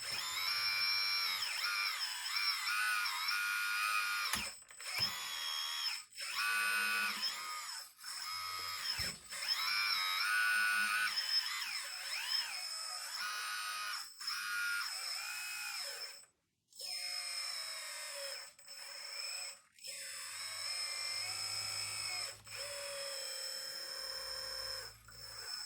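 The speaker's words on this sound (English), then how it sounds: "So let me show you the hydraulic system." Hydraulic system of a Kabolite 336 RC excavator model running, a high whining pump and motor drone that rises and falls in pitch as the machine speeds up and slows, with short pauses, heard close for a long stretch.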